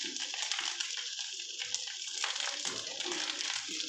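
Rose water pours steadily into egg pilaf in a pot, a continuous close splashing, gurgling stream with no voices over it.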